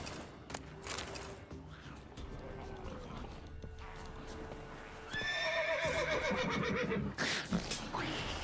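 A horse whinnies and neighs in The Witcher 3, with clip-clop hooves and game sound effects over a steady background, the neigh rising loudly in the second half.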